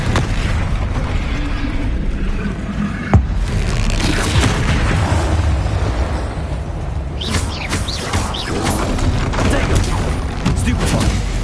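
Bombarda explosion spells cast in Hogwarts Legacy, with deep booms and mechanical rumbling among other game effects, while a voice speaks over the action throughout.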